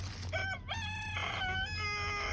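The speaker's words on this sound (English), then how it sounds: "that thing does not know when to crow." A rooster crows nearby in a home kitchen setting with free-range chickens outside, its drawn-out harmonic call rising and holding in a single loud crow over a low steady background hum.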